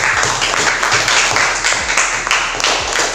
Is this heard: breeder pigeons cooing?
no